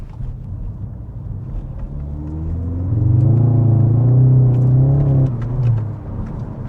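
A Stage 3 big-turbo Skoda Octavia 1.6 TDI family car with ESP switched off accelerates under throttle. Its diesel engine rumbles steadily, then swells into a loud, rising rev midway before easing off again.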